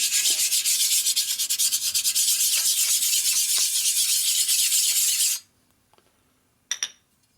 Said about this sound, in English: Take the stone right here and hit across this surface